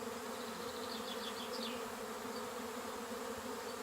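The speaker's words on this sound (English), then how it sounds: "I can hear the buzzing bees." A swarm of honey bees buzzes in a tree, a steady, dense outdoor drone that holds unbroken throughout, with faint bird chirps high above it.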